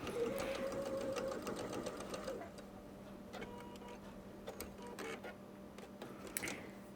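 Sewing machine on slow mode stitching fabric for a small fat-quarter tote bag, a quick rhythmic whir that fades out after about two seconds, followed by quieter handling clicks and faint rustling.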